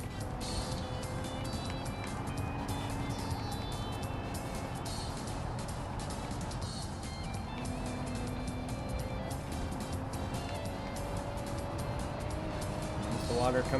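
Audi A6 driving in the BeamNG driving game, a steady engine drone with road and tire noise running continuously and loud, slight pitch shifts as it moves, rising a little at the end.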